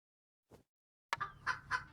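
Chickens cluck in the village-building game A Modest Village, a short soft cluck followed by a louder run of three or four clucks and squawks close up, with no talk.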